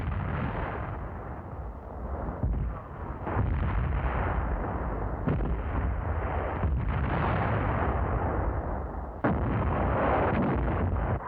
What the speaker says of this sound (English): The effect of the artillery fire.